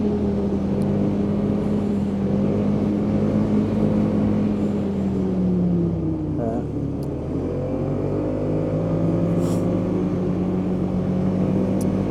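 Polaris Indy snowmobile with a Pro Star S4 four-stroke engine, 2024 model, pulls hard, a loud, close, steady drone that dips briefly in pitch and then climbs again, with no pause or talk.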